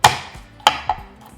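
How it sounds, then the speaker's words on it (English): Knife chopping and mincing garlic on a board, three sharp close knocks at uneven spacing, loud and alone. "Just finally mince it"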